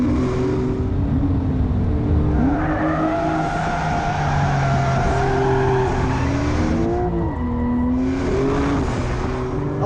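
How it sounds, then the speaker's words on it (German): A Porsche 992 Turbo S six-cylinder engine on the move, a loud continuous drone with shifting harmonics as revs rise, dip and climb again, heard alone without voices. "Das klingt aber richtig nach Sechszylinder"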